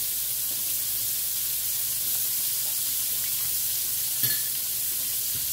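Pork chops frying in a hot pan, a steady bright sizzle and hiss running continuously up close, with a brief clink partway through.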